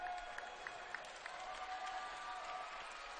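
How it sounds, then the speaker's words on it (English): A high school boys' basketball crowd claps and cheers continuously, a faint, distant wash of applause with scattered sharper claps. "Everybody cheering"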